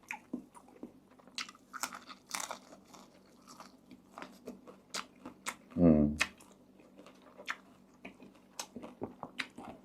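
Someone eats Mon-style pork belly curry with water mimosa and santol, making quiet, close wet chewing and scattered soft crunches, with a short burst of talk midway.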